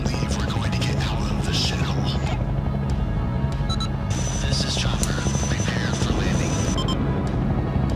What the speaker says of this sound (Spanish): Había un helicóptero.